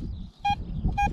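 A Vista X metal detector with a 14-inch coil gives two short beeping target tones about half a second apart over low background noise, with no talk.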